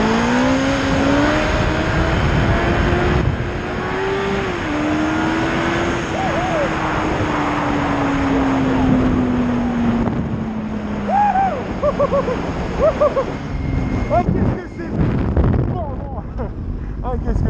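A 2000 Yamaha R1 motorcycle accelerates hard during a wheelie attempt. The engine drones loud and close under rushing wind, and its pitch rises and falls as the rider shifts. Someone speaks briefly over it.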